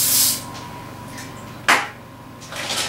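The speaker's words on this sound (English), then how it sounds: "We're going to spray this with cooking spray." Short hissing bursts of cooking spray from an aerosol can into a skillet, with one sharp spray in the middle and softer hisses at the start and end.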